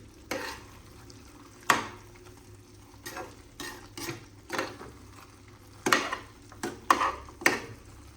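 A spoon scrapes and knocks through mutton curry pieces coated in spice powder in a pan, with a steady soft sizzle underneath and about a dozen distinct stirring strokes spaced irregularly.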